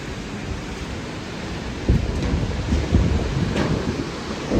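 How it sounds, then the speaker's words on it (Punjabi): A strong storm roars with heavy rain and gusting wind in a broad, loud wash, broken by a few low thumps and rumbles that could be thunder. No one speaks. "ਲਾ ਜੀ ਬਹੁਤ ਤਗੜਾ ਤੂਫਾਨ ਆ ਗਿਆ"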